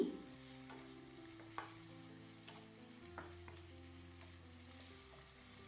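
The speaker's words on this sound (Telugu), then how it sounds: "పొడుగ్గా కట్ చేసిన ఎరగడ్లు రెండు రెమ్మల కరివేపాకు వేసుకుని ఫ్రై చేసుకోవాలి" Sliced red onions and curry leaves fry in oil in a kadai, giving a soft, steady sizzle with a few faint stirring clicks throughout, no voices.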